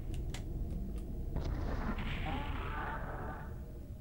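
Rocket blasts from DOOM 64 rumble as a couple of faint pops give way to a low, sustained explosive roar that slowly fades.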